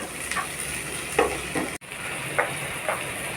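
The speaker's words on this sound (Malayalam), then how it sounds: "നമുക്കിതിലേക്ക് തക്കാളി ഇട്ട് കൊടുക്കാം ഒന്ന് ഇളക്കി യോജിപ്പിച്ച് കൊടുക്കാം" Tomatoes being stirred into frying onions in a pan, a steady sizzle with a few soft scrapes of the spoon at intervals, close and moderately loud with no talking.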